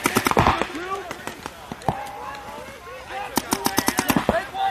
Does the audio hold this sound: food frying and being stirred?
no